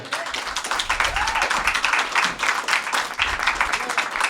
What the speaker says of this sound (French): j'aimerais ça qu'on applaudisse, s'il vous plaît, très fort